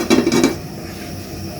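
Metal utensil scraping and clinking against a pan while a little oil is stirred around it, a few quick close scrapes at first, then quieter low rustle, with no voices.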